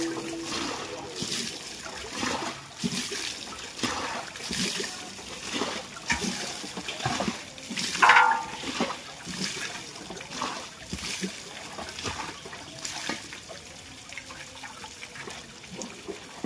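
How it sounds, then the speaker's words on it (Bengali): Water is bailed out of a fish pond with a bowl, giving repeated irregular splashes and pours, one louder splash near the middle, under faint background voices outdoors. "জল ফেলা গো বাটি করে"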